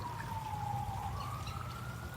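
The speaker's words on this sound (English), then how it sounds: "I'm assuming you guys can hear the siren." Emergency vehicle siren outdoors, a single sustained wailing tone slowly falling then rising, distant and moderately faint over low background rumble, with no talk.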